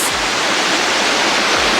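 The Phantom waterfall on the DeSabla flumes in Northern California pours in a loud, continuous broadband roar, steady and close, with faint low thumps beneath.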